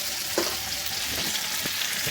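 Chicken pieces fry in a pan with a loud, even sizzle that fills the whole moment, broken by a couple of faint stirring clicks.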